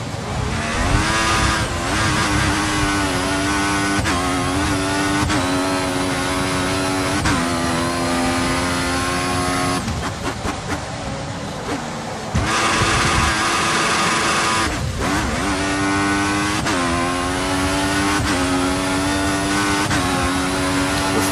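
Formula 1 race cars in F1 2014 roar past with high, sustained engine whines that rise in pitch and shift in bursts, loud and continuous throughout, with no talking.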